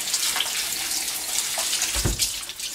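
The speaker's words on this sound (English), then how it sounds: "Rinse it under the cold tap" Cold tap water runs steadily into a sink as cucumbers are rinsed under it, a continuous close splashing hiss with small bumps from handling.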